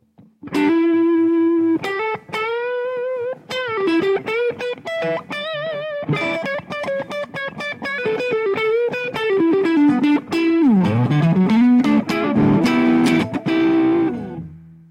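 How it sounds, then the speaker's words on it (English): An electric guitar runs through an overdrive pedal, its driven, sustained notes and bends playing continuously and loud, with slides and a thicker crunchy tone near the end. "Let's actually turn on the Overdrive early and see how that sounds with some drive to it."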